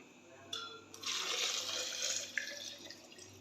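Half a litre of fresh boiled milk poured into a blender holding sliced banana, a short splash followed by a steady liquid stream for a couple of seconds, close and clear.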